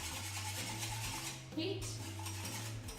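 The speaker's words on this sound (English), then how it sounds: "Just keep whisking, you don't want it to burn at all" A whisk scrapes and clinks steadily against a pan of lemon tart filling warming over a burner, a continuous close stirring texture with a low hum beneath and a brief voice in the middle.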